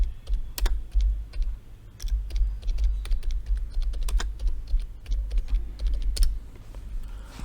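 Keys clacking steadily on a computer keyboard, close and fairly loud, with an irregular rhythm of taps and a low steady hum underneath, no voices.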